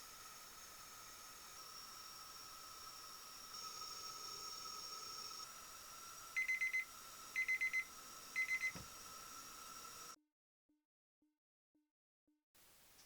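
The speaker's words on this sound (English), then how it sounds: "Once you reach the target temperature, your chef alarm will sound." A cooking thermometer's target-temperature alarm sounds three short bursts of rapid electronic beeping at even intervals over a faint steady hum, followed by quieter low blips.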